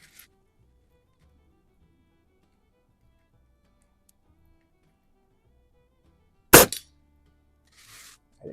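A .22 pellet from a Xisico XS46u underlever air rifle striking a metal ram silhouette target, heard as one sharp, loud crack with a short ringing tail, followed by a faint rustle, in an outdoor plinking setting.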